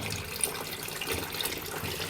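Soaked fava beans are rinsed under running tap water in a kitchen, with a steady soft splashing trickle at moderate volume.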